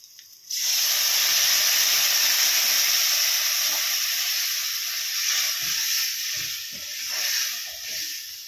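A loud, sudden hiss and sizzle erupts as tamarind water hits a hot pan of fried sun-dried tomatoes, then settles into steady bubbling and crackling that gradually softens.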